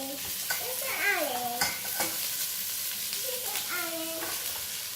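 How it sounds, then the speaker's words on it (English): Celery and yellow onion sautéing in a pot for a keto sausage kale soup, giving a continuous soft sizzle with occasional stirring knocks, while voices, including a small child's, speak over it. "I'm just gonna saute it till it kind of gets translucent and soft"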